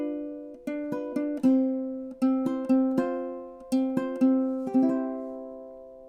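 A ukulele plays measures 6 to 9 of Morning Has Broken, with strummed chords and plucked notes ringing out in a steady, unhurried rhythm, close and clear with no voice.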